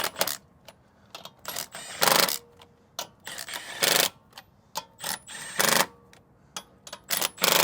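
Lug nuts on a winter tire wheel being tightened in a cross pattern: a series of short, sharp mechanical bursts with irregular spacing, some longer rattling spurts between clicks, close and fairly loud.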